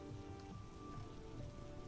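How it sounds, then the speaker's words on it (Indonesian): Rain falls steadily on surfaces, a soft continuous patter heard faintly and alone. "dan hujan ini"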